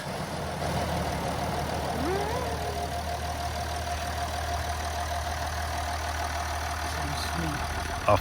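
An engine runs at a steady idle after being started following front-end repair work, with a continuous low rumble and faint knocking, close and even throughout.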